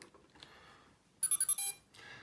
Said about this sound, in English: So this one has a couple of initialization beeps